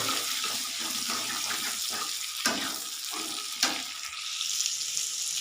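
Potatoes fry in a pan for a desi-style prawn curry, a soft, steady sizzle with a few sharp clicks of utensils against the pan and no voices.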